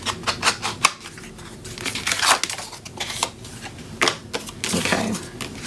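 Paper album pages for a Stamperia Make a Wish mini album being trimmed, with a series of close, crisp cutting snips and rustles that come in quick bursts, without talk.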